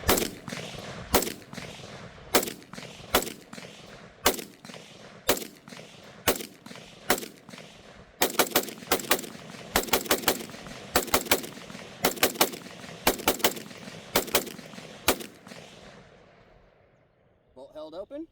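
Rifle built on a Warhammer Armaments upper firing a long string of sharp, loud shots, at first spaced about a second apart and then in quicker bursts, ending with the bolt locking open and a brief mechanical rattle.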